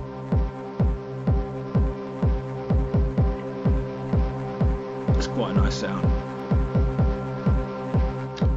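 A synthesized ambient drone from Ableton Operator with late distortion throbs in a steady pulsing rhythm, thick with harmonics, while someone speaks briefly over it.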